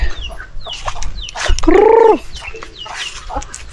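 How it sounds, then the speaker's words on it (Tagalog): Native chickens cluck close by, with short clucks and one drawn-out tonal squawk in the middle, plus faint shuffling around them. "Merong dalawang nangingitlog na native na manok."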